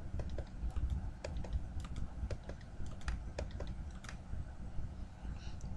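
Mouse clicks and keyboard presses on a computer while cells are clicked and Enter is hit in an Excel spreadsheet, heard as scattered, light, close-up taps over a steady low background hum, with no talking.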